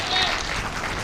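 Audience applause at an Urdu mushaira poetry gathering, a dense steady patter of clapping from the whole hall lasting about a second and sounding fairly close and full.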